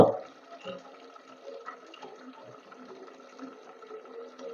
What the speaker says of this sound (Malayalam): ആദ്യമായിട്ട് നമ്മൾ ഈ സ്റ്റീൽ ഡബറയിൽ നിറച്ച് വെള്ളം നിറക്കുക